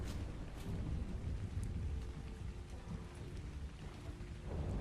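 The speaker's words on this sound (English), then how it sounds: "And it's raining again." Rain and thunder in a castle-building video game: a steady hiss of rainfall under a continuous low rolling rumble of thunder, with no voices.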